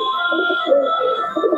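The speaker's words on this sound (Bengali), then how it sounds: "এটা মাদি পায়রা।" A female Kaldoma pigeon coos close by in soft, rolling low murmurs that run steadily for a moment, with a faint steady tone in the background.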